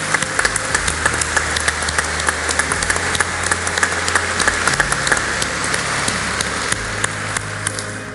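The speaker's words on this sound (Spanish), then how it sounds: "Un aplauso a Nacho." A business forum audience applauds loudly and continuously, a dense wash of many hands clapping close by, with a low steady hum running underneath and no voices.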